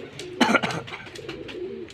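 An old 28-year-old pigeon with cataract-clouded eyes coos close by in a brief throaty burble, with soft handling noise around it.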